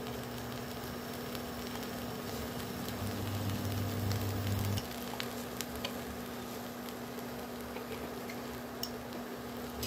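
Sautéed soybean salad with white sesame and ground black pepper sizzling softly in a pan, a faint continuous hiss with scattered light scrapes and clicks of stirring, alone with no voices.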